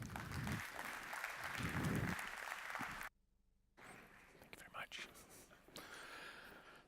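An audience at an industry conference on chemical feedstocks claps for about three seconds to welcome a speaker; the applause stops abruptly, followed by a short silence and then faint talk and room noise.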